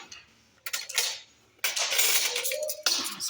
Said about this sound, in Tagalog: Spoon at saka fork.